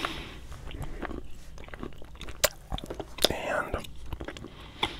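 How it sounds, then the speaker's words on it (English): Close, whispered speech with a hard piece of gum being chewed, giving wet clicks and soft crunchy bites scattered between the hushed words, recorded intimately near the microphone. "man, this gum is hard. It takes some work to get into it."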